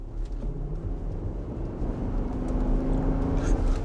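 A Nissan Patrol with a 5.6 litre V8 petrol engine produces a deep, steady rumble that swells slightly in loudness, heard close up without talking.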